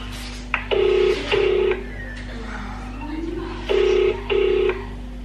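Phone keypad dialing a hotel number: two pairs of short, loud beeping tones separated by a pause, with a quiet voice in the background.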